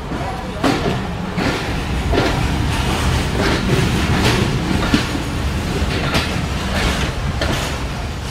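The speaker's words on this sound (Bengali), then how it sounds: "আমাদের ট্রেন ডিপারচার নিচ্ছে নাটোর জেলার নাটোর রেলওয়ে স্টেশন থেকে" An old-coach Banglabandha Express train pulls out of platform 1 at Natore railway station at dusk, with continuous rumbling and repeated rhythmic wheel clacks over rail joints close by.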